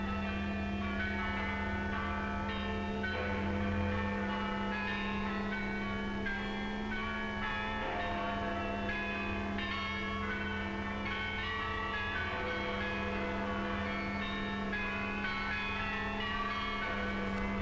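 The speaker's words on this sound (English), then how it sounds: "Now the bells rang out a song of thanksgiving," Church bells across Britain ringing out in thanksgiving for victory, a continuous mellow peal of overlapping tones with a steady low hum underneath, fairly quiet and without speech.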